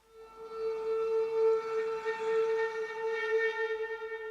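A sustained, droning synth tone with rich harmonics swells in and wavers slightly, eerie and tense like held horror strings.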